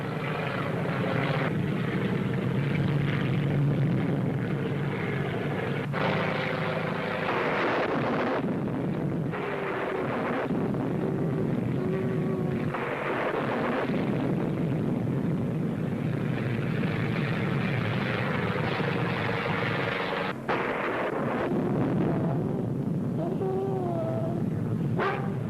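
A propeller airplane drones continuously in flight with ice forming on the wings, as in a 1941 film, a loud steady engine hum filling the whole stretch with dialogue over it.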